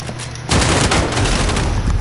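Video-game gunfire bursts in loud, dense and close after a short quieter stretch, a rapid fusillade of shots that runs continuously to the end.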